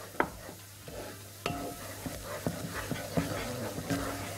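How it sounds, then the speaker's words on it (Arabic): Flour frying in ghee for a creamy vegetable soup, a soft sizzle with repeated scrapes and clicks of a spoon stirring the pan, close and fairly quiet. "وهحمره في السمنه"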